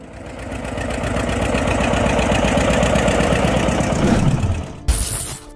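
A Farmall 200 tractor engine runs steadily with a loud, even, rhythmic mid-pitched chug for several seconds before cutting off abruptly, followed by a brief clunk.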